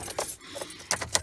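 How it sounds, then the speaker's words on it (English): Car keys for a Jeep Wrangler JK jangle in a short, bright burst, several quick metallic clinks close to the mic with no talking. "Grab the keys,"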